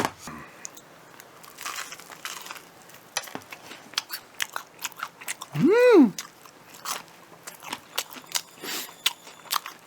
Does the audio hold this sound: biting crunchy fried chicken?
yes